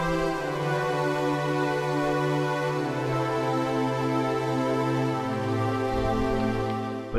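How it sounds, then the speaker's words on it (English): Default FL Studio string section sample plays sustained chords alone, smooth legato notes shifting pitch every couple of seconds with a warm, steady, full tone and no percussion. "The strings on their own sound like this."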